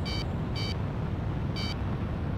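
Three short radar warning beeps from the Ace Combat 6 flight combat game, evenly spaced high electronic tones over a steady rushing engine and wind bed, with no talk.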